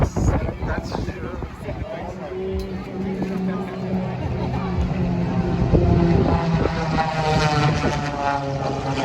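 A propeller airplane at an air show over the water swoops low and close, its engine drone swelling steadily louder with shifting pitch, while people nearby talk over it.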